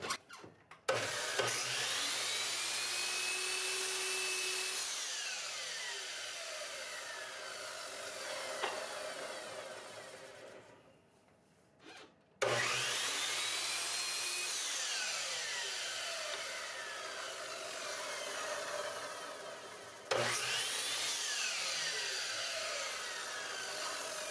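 A miter saw spins up and cuts through wood in a long, loud whining pass, stops briefly, then cuts twice more. The sawing is close and steady, with no talking.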